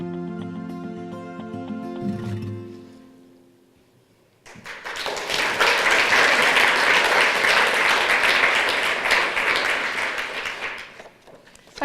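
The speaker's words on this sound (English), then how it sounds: "thank you for the applause, glad you liked it" An audience in a corporate presentation breaks into applause after a brand film about Clarks shoes ends; loud, dense clapping swells in after music fades and holds steady for several seconds.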